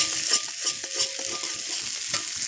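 Potatoes frying in hot oil in a pan, a dense continuous sizzle with quick, rhythmic stirring scrapes close by and no voices.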